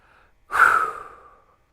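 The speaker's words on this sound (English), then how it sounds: "Breathing hard." A horse gives a single loud, close, breathy exhale or snort after training, a rushing burst that fades over about a second.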